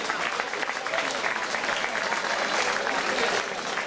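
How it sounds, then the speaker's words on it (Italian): An audience applauds a Sardinian folk singing group, Su Cuntrattu de Seneghe, in Busachi with continuous, even clapping throughout and no pauses. "In questo caso l'applauso per il Subcontratto da Seneghe"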